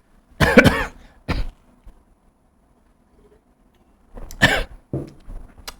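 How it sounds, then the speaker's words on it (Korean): A woman coughs repeatedly in a quiet room during a parenting lecture, several close, sharp bursts in two clusters separated by a short silence. "제가 기침을 자꾸 해서"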